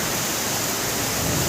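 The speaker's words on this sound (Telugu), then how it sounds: "అది చూడండి ఫుల్ వర్షం, అనుకోకుండా అన్ఎక్స్పెక్టెడ్గా" Heavy rain pours during a sudden downpour in Kollapur, a steady, dense, close hiss of water filling the whole stretch without any clear thunderclap or voices.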